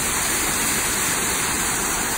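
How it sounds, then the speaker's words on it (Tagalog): Steady, loud rushing of water flowing in Mizumoto Park, a continuous dense wash like a small waterfall or stream with no pauses and no voices. "Nakakita ka ng tubig na umaagos."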